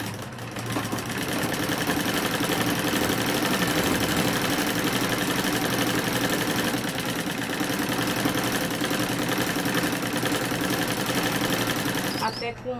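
A sewing machine runs steadily and close while stitching bias binding onto a fabric stove cover, giving a continuous mechanical whirring hum for several seconds that stops near the end.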